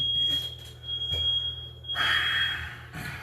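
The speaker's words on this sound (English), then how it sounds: "fire alarm keep going off" A steady high-pitched alarm tone sounds continuously over a low background hum, with a brief burst of hissy noise partway through.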